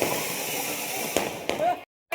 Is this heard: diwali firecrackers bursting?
yes